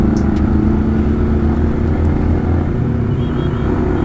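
A Yamaha Vixion motorcycle, modified NVL model on its standard ECU, ridden through congested traffic, its engine a loud close steady rumble at low revs with traffic noise around and no talking.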